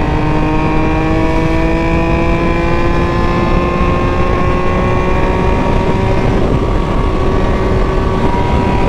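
A Triumph Tiger motorcycle engine held at full throttle on a road with heavy traffic, a loud, sustained high-pitched drone with steady engine harmonics, slight pitch wavering, and strong wind rush.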